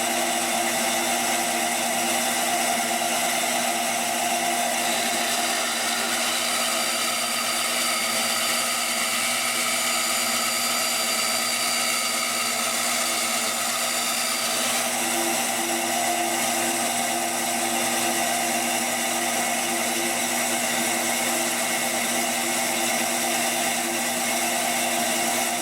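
A bandsaw cuts through a turned wooden piece to shape a cross, giving a steady, loud, unbroken mechanical whine and rasp that fills the whole stretch with no speech.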